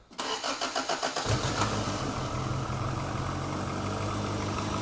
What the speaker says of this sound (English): So we're just going to fire it up now. The engine's cold.